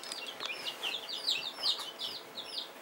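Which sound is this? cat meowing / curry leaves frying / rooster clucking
rooster clucking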